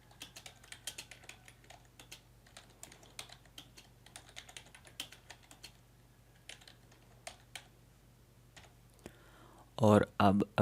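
Quick, light clicking of keys on a computer keyboard while text is typed into InPage, uneven bursts of close taps continuing for several seconds at low volume, ending with a short voice.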